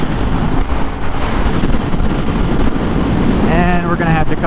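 Heavy wind buffeting roars across the microphone, loud and constant, while riding a Kawasaki Vulcan S cruiser motorcycle without a windscreen in rush-hour traffic after an on-ramp.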